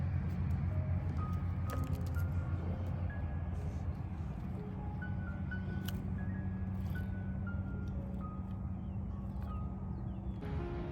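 Steady broadband rumble of passing cars on a nearby country highway, continuous and moderately loud throughout, with faint tonal whines drifting over the low drone.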